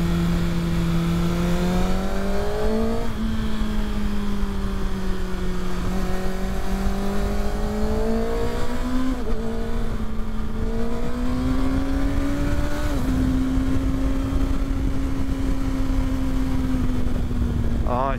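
A 2024 Kawasaki ZX-6R supersport motorcycle accelerates hard on an open road, its engine pitch rising through the gears in repeated loud climbs with brief dips at each shift and constant wind rush behind it.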